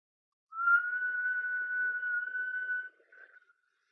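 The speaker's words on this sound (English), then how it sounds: "And now whistle in when you're breathing in." During a Kundalini breathing exercise, a single inhaled whistle holds a steady pitch for about two and a half seconds. A brief softer whistle follows, and the sound is close and quiet with silence around it.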